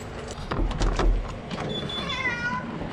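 A cat meows a few times close by, the cries rising and wavering, with some rustling and handling noise underneath.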